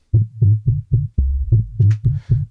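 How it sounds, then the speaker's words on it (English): Processed bass line built from tines for a jungle music demo: a deep, punchy series of about nine short throbbing low notes in quick rhythm, loud and alone with a brief hiss near the end. "with these tines and done a bit of processing to create a bass line"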